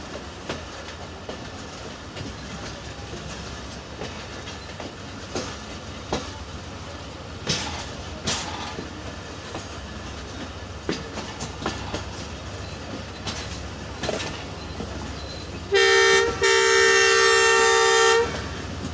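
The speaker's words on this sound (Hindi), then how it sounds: "शाह हुसैन एक्सप्रेस डिपार्चर करती हुई सर शमीर रेलवे स्टेशन से" The Shah Hussain Express departs Sir Shamir railway station in Pakistan, a loud, steady rumble of rolling wagons with rhythmic clickety-clack, ending in a long blaring horn blast.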